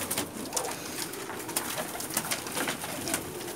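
Pigeons cooing on a rooftop loft in Jeddah, Saudi Arabia, a dense overlapping chorus of soft, throaty coos from many birds close by, continuous with no talking.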